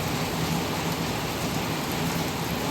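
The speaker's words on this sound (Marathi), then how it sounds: "एवढा जोरात पाऊस आहे." Heavy rain pours onto a house in the morning, a dense, steady roar of water hitting the roof and ground, constant and loud with no gaps.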